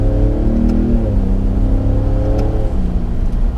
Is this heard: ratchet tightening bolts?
no